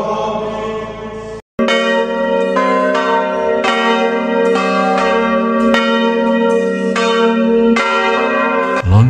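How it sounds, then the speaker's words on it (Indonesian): Loud church bells ring repeatedly from the Saint John Paul II bell tower in Maumere, Indonesia, in a steady, overlapping peal, rich metallic tones sustaining and blending, with no voices present. "Lonceng pada menara lonceng ini akan didentangkan pada setiap doa Angelus"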